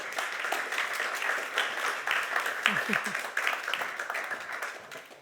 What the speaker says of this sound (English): So could we welcome up to the stage with a round of applause our panel, please, ladies and gentlemen.